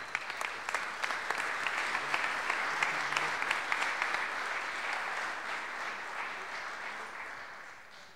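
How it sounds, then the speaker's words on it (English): Sustained applause from an audience at a St. Louis business meeting award presentation, dense clapping throughout that fades slightly toward the end, with no talk over it. "Let's hear a round of applause,"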